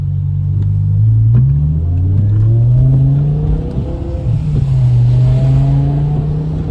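A BMW E60 M5 sedan's 507-horsepower V10 revs hard on a rainy road, its pitch climbing through gear changes with steady rumbling drops between pulls, loud and close from inside the car.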